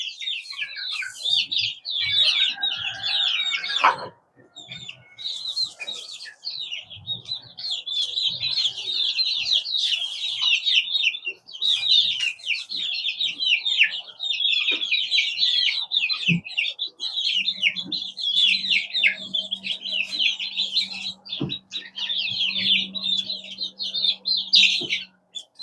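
A brood of about thirty young chicks keeps up dense, high, continuous peeping and chirping close by, with a brief lull early and a faint low hum in the background.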